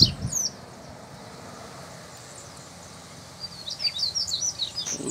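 Coleiro seedeaters sing in green woods beside a bamboo thicket, with a burst of high chirps at the start and a longer run of quick, repeated song notes near the end.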